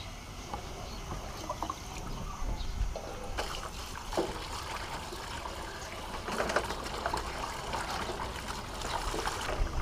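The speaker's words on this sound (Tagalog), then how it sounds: "Bahan naman natin siya ulit ng tubig" Running water rinses a cleaned catfish (hito), a continuous splashing trickle with bursts as the fish is handled under the flow, fairly close and steady throughout, with no voices.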